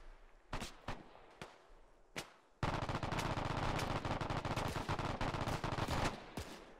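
An MG-42 machine gun in the ArmA 3 WW2 mod fires a few separate shots, then breaks into a long, loud, rapid sustained burst close by.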